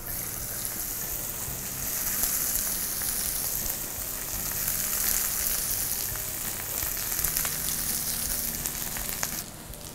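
Cooked rice is tipped into a hot tempering for lime rice and stirred, producing a continuous close sizzle and crackle with rustling scrapes of mixing, no speech.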